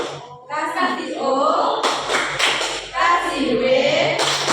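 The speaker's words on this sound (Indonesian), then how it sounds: "Nama tepukannya tepuk wow keren." A classroom of pupils does the rhythmic Indonesian 'tepuk wow' clap, a few sharp clap bursts landing amid a teacher's and children's chanted voices, close and fairly loud.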